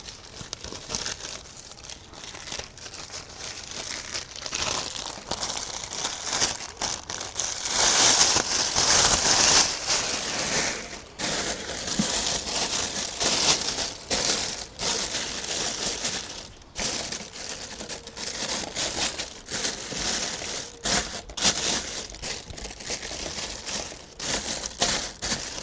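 A plastic bin bag is handled and crumpled up close at a fishing pit, giving a continuous crinkling rustle that rises and falls over roughly twenty-five seconds with no talking.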